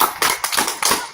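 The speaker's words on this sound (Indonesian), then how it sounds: "Tepuk tangan buat kelompok 3." Audience clapping for a student group at a school presentation event, a short burst of several sharp, broadband claps at close range, with no voices over them.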